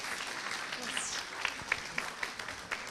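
An audience at a university exchange talk breaks into light applause, with scattered claps rising briefly while a speaker talks over it.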